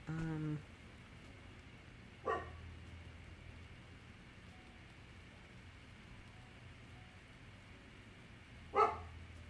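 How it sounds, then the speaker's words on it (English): Two or three muffled barks from a dog upstairs, spaced several seconds apart over a quiet, steady background hum. "my dog is kind of barking upstairs"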